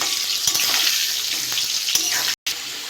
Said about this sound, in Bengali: তেলটা গরম হয়ে গেছে, আলুগুলো ভেজে নেব